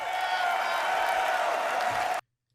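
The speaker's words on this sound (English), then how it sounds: "And when this appeared, they started to uproar." A large crowd at the Star Citizen RSI Galaxy reveal erupts in sustained applause and cheering, a steady loud roar of clapping that holds evenly and then cuts off abruptly.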